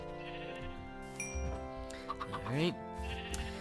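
Sheep bleating in a farming game, OrgelCraft, with a few wavering bleats up close, one rising loud cry near the end, over a steady musical background and a brief spoken word.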